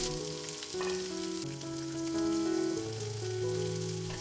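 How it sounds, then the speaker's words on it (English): Onion sizzles as it fries in a pan over medium heat, a quiet steady crackle beneath soft background music, with no talking. "As always, we start by frying the onion."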